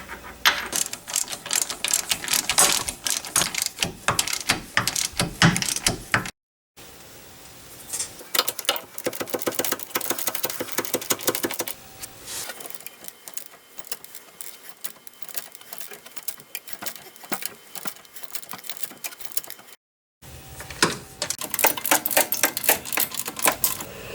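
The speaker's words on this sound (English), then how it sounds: "Go ahead and reinstall the bolts for the hubs." A hand ratchet clicks in long rapid runs, tightening the hub bolts that secure the rear wheel hub to the knuckle on a 2010 GMC Acadia, with a couple of brief pauses between bursts and no talking.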